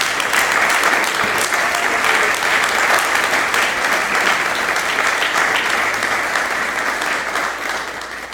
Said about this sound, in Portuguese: Creio que podemos dar uma salva de palmas em adoração a Ele.